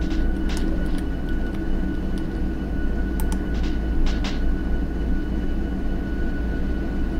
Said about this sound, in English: I was wondering why the whole damn train was going